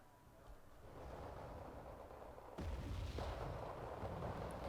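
Distant artillery fire rumbles through a World War II Battle of the Bulge strategy battle, a low steady roar with a sharper booming surge partway through, faint and continuous.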